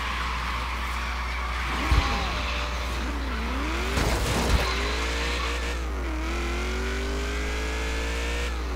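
Holden Maloo ute with a Chevy LSA V8 racing in Forza, its engine revving and shifting steadily with brief tyre skids and impact thumps, no talk over it.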